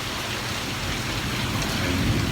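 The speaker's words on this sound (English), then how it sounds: "you can probably hear the thunder and the lightning" Heavy rain pours steadily on surfaces outside a building in Viñales, Cuba, with a low rumble of thunder rolling underneath the dense, constant hiss.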